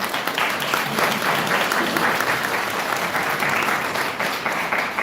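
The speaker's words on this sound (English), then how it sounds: "Let's give them a round of applause." Audience applause at a conference, a broad, even wash of many hands clapping, loud and sustained without letup.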